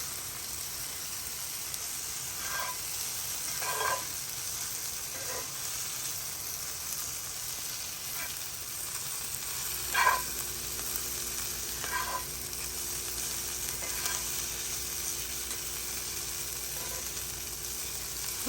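Flour cooking in fat in a frying pan for beef stroganoff, giving a steady soft sizzle throughout with a few louder crackles and stirring scrapes, close and alone.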